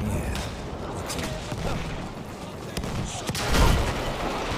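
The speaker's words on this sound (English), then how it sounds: "Thank you, artillery." Artillery fire in the Battlefield 1 video game, with heavy booms and rattling gunfire rolling steadily through a dense battlefield din, one louder blast near the end, while a voice talks over it.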